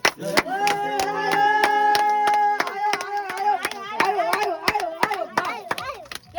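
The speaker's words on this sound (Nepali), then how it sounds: "ताली पड्काउनु न सबैले" People clapping at a birthday celebration: a scattered run of sharp hand claps under singing and cheerful voices, close and fairly loud.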